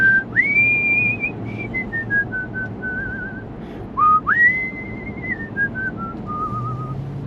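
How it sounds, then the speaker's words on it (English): A single person whistling a clear, stepwise melody, close and solo, with sliding notes and a short break midway. "Can you whistle something quick"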